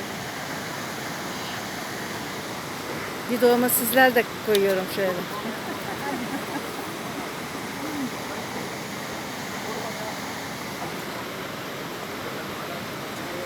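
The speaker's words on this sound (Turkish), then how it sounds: "Düden Şelalesi'nin den gelen suyun denizde buluştuğu nokta değil mi?" Water from Düden Waterfall rushing out where it meets the sea makes a steady, broad roar that runs through the whole stretch, with a voice speaking briefly near the start.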